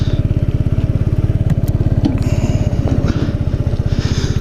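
Kawasaki Z125 motorcycle with its stock exhaust, the single-cylinder engine running loud and close in a steady, fast-pulsing drone that rises and falls slightly as the throttle is worked during wheelie practice.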